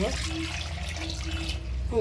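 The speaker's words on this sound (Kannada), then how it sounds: "ಆಲೂಗಡ್ಡೆಗೆ ನೀರು ಹಾಕೋಣ" Water poured onto potatoes in a pressure cooker, a soft steady running and trickling that is fairly quiet and continuous for about two seconds.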